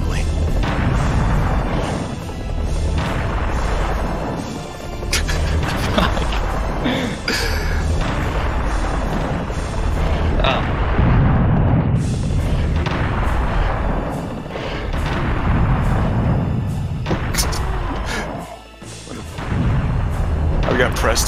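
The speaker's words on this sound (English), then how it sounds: "shooting the cannons and hitting the enemies that are chasing me" Cannons fire at chasing enemies in Serious Sam: The First Encounter, producing loud, dense, repeated booms and blasts that roll on almost continuously, with a voice talking over the barrage.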